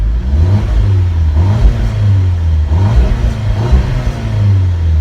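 A car revs hard during a test drive, its engine note rising and falling in repeated surges, loud and close with no talking over it.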